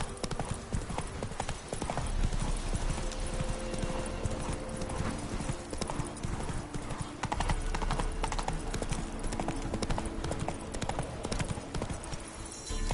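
Roach, the horse in The Witcher 3, gallops in a steady, rapid clip-clop of hooves that stays loud and close throughout, with occasional game effects and brief voices mixed in.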